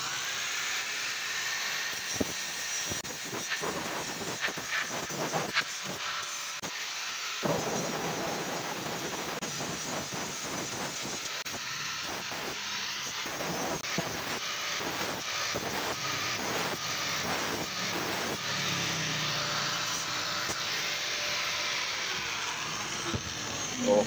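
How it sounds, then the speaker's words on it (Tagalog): A grinder cuts away the sharp edge of an old junk kettle, giving a loud, continuous whine and rasp with repeated bursts of metal grinding, close up and steady throughout. "Tanggalin lang natin yung matalim na bahagi ng ating kettle. Gagamit tayo ng grinder."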